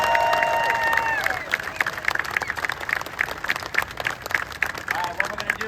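Crowd applause at a rain-soaked NASCAR event in New Hampshire, with scattered rhythmic clapping, fairly close and lively, continuing for several seconds with a brief tone near the start.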